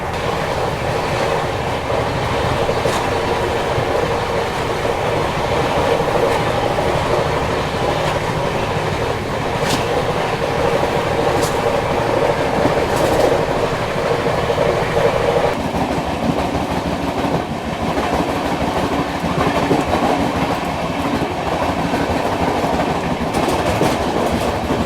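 Indian Railways Toofan Shatabdi train running at speed, heard from inside the AC chair car: a steady loud rumble with rhythmic clickety-clack of wheels over rail joints throughout, no talking.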